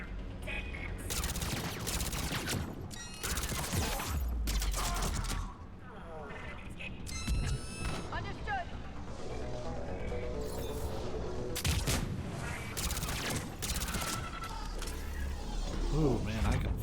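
Submachine gun bursts in a Mass Effect 3 battle come in repeated rapid volleys amid mechanical clanks and clatter. Game voices talk over parts of the fighting.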